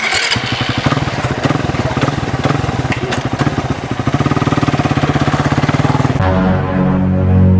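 A nearby motorcycle engine runs loud and steady with a rapid, throbbing pulse that shifts to a smoother tone near the end.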